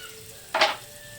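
Chopped onion drops into a hot pan with oil and gives one brief burst of sizzling that fades quickly back to a quiet background.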